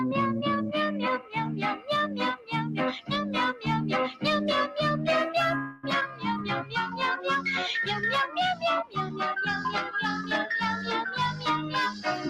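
A cat meows over and over in a quick, rhythmic run of short calls, some pitched high and some low, close and clear with almost no gap between them, in a cat food commercial.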